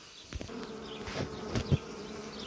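Honeybees buzz steadily close by at an open hive, a dense droning hum with a few louder passes and light handling knocks, no voices.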